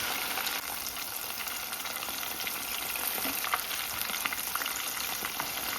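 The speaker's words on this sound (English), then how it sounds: "so we'll fry the fish" Fish sizzles steadily in hot oil in a pan for Jamaican brown stew fish, a dense, continuous crackle with a few sharper pops, close and fairly loud.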